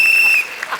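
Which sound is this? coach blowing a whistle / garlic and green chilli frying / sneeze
coach blowing a whistle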